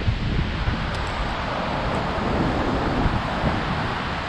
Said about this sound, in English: Oh man, now the wind's behind me. Caused a big old wave to slap up against me,